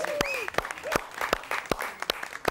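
An audience claps for the band after a live TV performance of a song, with sharp, separate claps over sustained musical tones and a brief vocal sound.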